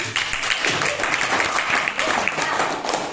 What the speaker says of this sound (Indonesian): Can you give applause for me?